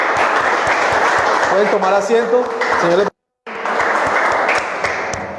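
Church congregation applauding for the Lord in a Spanish-language service, a loud sustained clapping wash under someone speaking, cut by a brief silent gap before the applause resumes.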